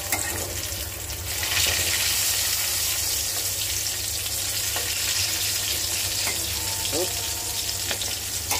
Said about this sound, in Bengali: দেখেন কাঁকরোল ভাজা হতেছে।